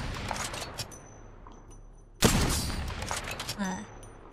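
Sniper rifle gunfire in Apex Legends, a sudden loud shot cracking in midway and leaving a long, dense roar and rumble in its wake, with softer game sounds and brief clicks around it.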